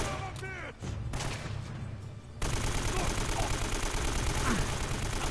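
Rapid AK rifle bursts crackle through a firefight in Uncharted: Drake's Fortune, loud and dense, with a brief lull before heavier continuous fire resumes under game noise.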